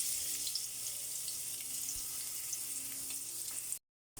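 Ginger sautéing in a pan for ginataang tuna, a soft, steady hiss of frying oil with faint crackles, quiet and close, cutting off abruptly near the end.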